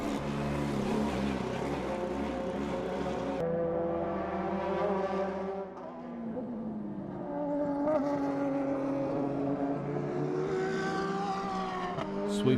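Race cars on the Inje circuit in an Asian Le Mans Series round pass with loud, sustained engine whine, pitch climbing and dropping through gear changes as cars sweep by at a moderate distance.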